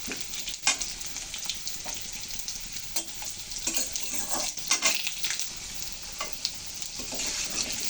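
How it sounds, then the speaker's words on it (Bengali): Vegetables, including taro and cauliflower, frying and hissing in a pan, with steady sizzle and intermittent scraping stirs of a spatula, close and alone without talk. "কচুরমুখী দিয়ে কিছুটা নেড়ে নিয়েছি বন্ধুরা"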